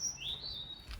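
Small wild birds at a garden feeder in the snow give a single thin, high chirp that slides upward and holds briefly, fairly faint against a quiet outdoor background.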